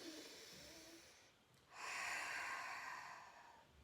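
Quiet breathing during a hypopressive low-pressure fitness exercise: a soft intake, a short pause, then a forceful airy exhalation pushed out through the mouth, close and faint.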